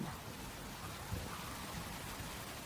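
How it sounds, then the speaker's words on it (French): Heavy tropical rain pours down on the flat-topped tepui mountains, a dense, unbroken hiss with low rumbling beneath, faint and steady with no voices. "Il pleut presque en continu sur les reliefs tabulaires des Tepuy"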